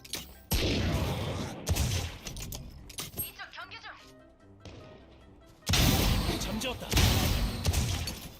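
Rapid bursts of video-game gunfire crackle loudly in two long stretches, with voices talking over the shooting.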